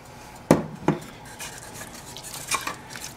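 Olive oil is stirred into a rustic heirloom tomato and herb pasta sauce, a spoon clanking sharply against the pan twice and then scraping softly through the thick sauce, with a few lighter knocks near the end.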